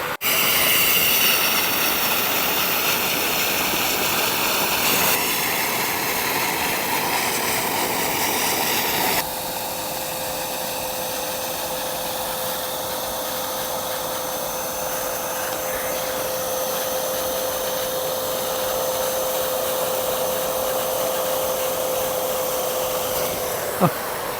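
A Karcher SE6.100 washing vacuum cleaner runs continuously with a steady, loud whine and roar, its pitch shifting partway through as the motor load changes, with no voices over it.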